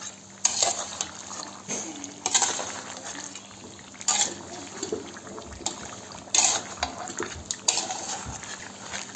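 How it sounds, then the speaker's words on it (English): A spoon stirs lamb charsi karahi in a pan over high heat, with a steady sizzle of frying beneath repeated scraping clinks of metal against the pan, close and moderately loud, without speech. "So we're gonna mix it a bit, so give it a little mix."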